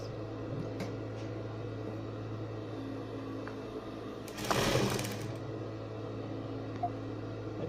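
Sewing machine running steadily while stitching bias tape around a fabric edge, a continuous motor hum with a brief louder burst midway, no voices.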